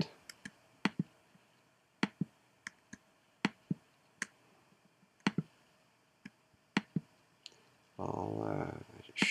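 Computer mouse clicking while selecting paths in editing software, sharp close clicks coming singly and in quick pairs at irregular intervals over near silence, followed near the end by a brief burst of louder rustling noise.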